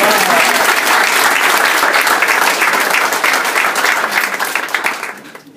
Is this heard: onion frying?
no